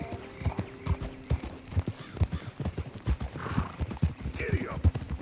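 Horse galloping in the Western video game Red Dead Redemption 2: rapid, rhythmic hoofbeats pound steadily close by, with a brief whinny and a few spoken voices over the clatter.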